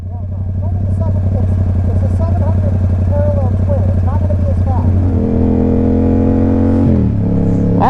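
A Yamaha R7 motorcycle engine revs hard and close, a loud steady drone that climbs in pitch as the bike accelerates, then shifts and keeps pulling, while a rider talks over it.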